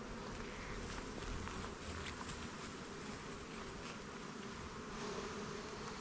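Honey bees swarm around frames lifted from a hive, a continuous, close, droning buzz with no voices over it.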